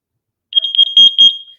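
A carbon monoxide alarm's test button sets off a second round of piercing, rapid electronic beeps, louder than before and close by, with no talking.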